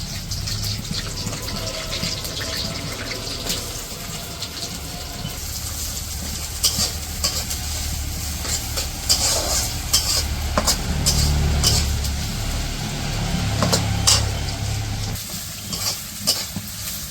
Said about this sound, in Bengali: তেল গরম হয়ে গেছে, এখন এই যে পেঁয়াজ দিয়ে দিল।